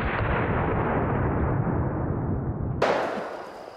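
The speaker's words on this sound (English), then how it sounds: "44 Magnum, 6 inch barrel." A Taurus Raging Hunter .44 Magnum revolver with a 6-inch barrel fires outdoors at produce targets, and its loud, booming blast rolls on for a few seconds before cutting off into a fading tail.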